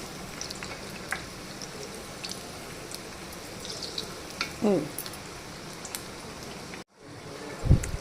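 Malabar spinach bajji, battered leaves, frying in hot oil with a steady, moderate crackling sizzle throughout, a few brief clinks or scrapes of a utensil near the end, and no talking.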